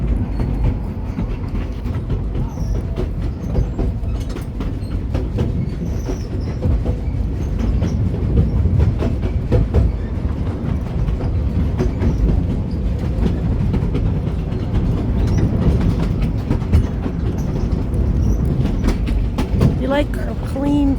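A narrow gauge coal train on the Cripple Creek & Victor railroad rumbles steadily along its rails with a constant low roar and faint clatter of wheels, loud and close throughout, with some talk mixed in.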